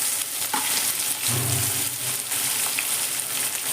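Long-sliced medium onion drops into hot oil with fenugreek seed tempering for an egg tadka, giving a steady close sizzle with brief stirring scrapes and no talking.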